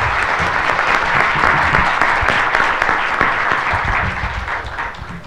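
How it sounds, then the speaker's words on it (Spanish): Loud, dense applause from the audience at the close of a conference panel session, sustained and steady for the whole stretch before easing slightly at the end. "Les pido un fuerte aplauso para todos los panelistas."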